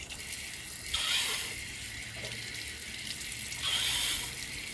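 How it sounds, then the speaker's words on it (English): Running water rinses carbon fines out of a filter screen from a water softener or filter assembly, a steady hiss of flow with two brief louder surges, close and alone without talk. "Make sure that this gets cleaned out real good with water."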